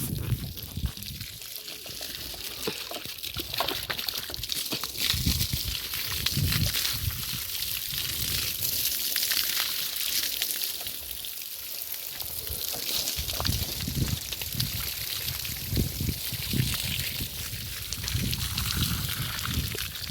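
Water from a hose pipe pours and splashes steadily throughout, a continuous broadband rush with irregular sloshing bursts, close by and fairly loud, with no talking.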